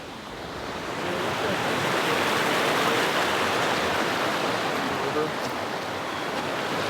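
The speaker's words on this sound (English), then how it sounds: "This is the force of water." Rushing floodwater from a road washout on the Utah Backcountry Discovery Route, a dense continuous roar of churning water that swells in and holds steady throughout.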